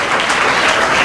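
Loud, dense applause from a congregation at a pastor's ordination service, a continuous wash of clapping filling the whole moment without pauses.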